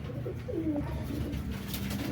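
Teddy pigeons coo softly and continuously nearby, low throaty murmurs over a steady background hum.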